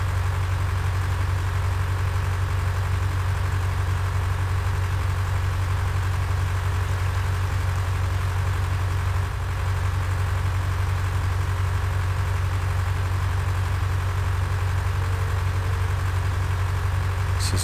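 An old farm tractor resembling a Massey Ferguson idles steadily and close by, its deep rumbling engine holding an even, unbroken drone with no voices over it.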